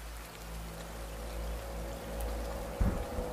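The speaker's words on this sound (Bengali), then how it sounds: "সন্ধ্যা থেকেই প্রচুর ঝড় বৃষ্টি শুরু হয়েছে" Heavy evening rain during a storm falls as a steady, soft patter over a low background hum, with a brief sharper knock or splash near the end and no voices.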